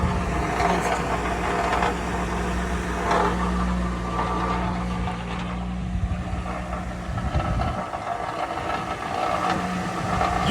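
Underneath a 2005 Mercury Grand Marquis GS, the exhaust gives off a loud, steady rumbling drone close up, while the engine idles throughout with a faint rattle.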